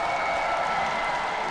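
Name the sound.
hometown fans applauding fencer Itkin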